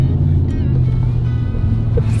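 Can-Am off-road vehicle running nearby in the Johnson Valley desert, a steady low engine drone with rumbling wind and motor noise throughout, no clear voices.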